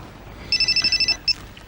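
A telephone rings in an office: a bright electronic warble in eight quick even pulses, a pause, then one more short burst, fairly loud against a quiet room background.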